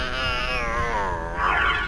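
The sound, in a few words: cat meowing in Harry Potter PS1 video game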